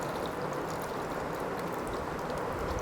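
Water streams steadily into a bowl of sliced, salted potatoes, a continuous close splashing rush with no pauses.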